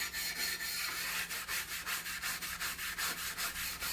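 A brass brush scrubs paint and gunk off the back of an old H. Disston & Sons backsaw in quick, regular back-and-forth strokes, close and loud with no talking.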